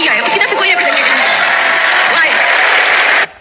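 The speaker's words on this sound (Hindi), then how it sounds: "तो तालियां और सबसे ज्यादा शोर इस पर है" A youth audience at a political gathering breaks into loud, sustained applause mixed with cheering and shouting, a dense crowd roar that holds steady for about three seconds before cutting off abruptly.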